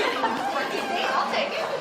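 A crowd of people chattering at once, overlapping voices in a busy murmur with hints of light laughter.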